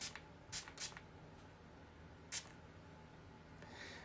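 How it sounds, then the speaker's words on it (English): Card spray from an aerosol can is misted onto a mat in a few short, quiet hissing bursts separated by pauses. "I'm going to use card spray on a mat"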